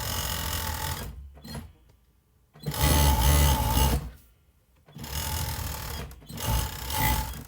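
A 4-thread overlock sewing machine stitching the side seam of a pencil skirt, running in three loud continuous bursts of fast whirring with short quiet pauses between them, close up.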